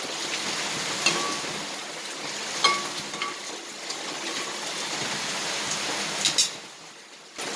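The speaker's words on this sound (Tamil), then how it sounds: "இப்போ நல்லா மழை பெய்யுது அதனால் நான் பேசுகிற சவுண்ட் ரொம்ப கேட்காது" Steady broadband hiss of heavy rain falling, continuous and fairly loud, with a few brief sharper spatters along the way and no voices.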